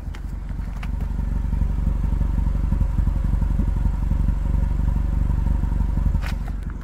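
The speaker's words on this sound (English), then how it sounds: "quickly, listen to the exhaust." Exhaust of a 2008 Fiat 500 running roughly, heard up close as a steady but uneven puttering idle with irregular pulses and faint clatter, continuous throughout.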